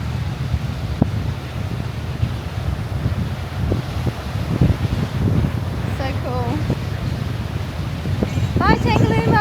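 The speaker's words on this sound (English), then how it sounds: "It's a bit windy" Steady wind buffets the microphone on an island beach at Tangalooma Island Resort, a constant low rumble that stays loud throughout, with people talking over it toward the end.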